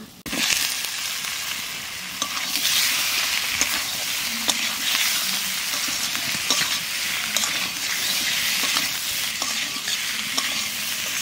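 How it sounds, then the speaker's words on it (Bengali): Spice paste and potatoes fry in a pan with a constant hissing sizzle, while a spoon scrapes and taps against the pan every so often over about eleven seconds, close up and without voices. "মশলাটা একটু কষে নিচ্ছি, এখানে আলু দেবো, আলু দিয়ে আর একটু কষে নেব।"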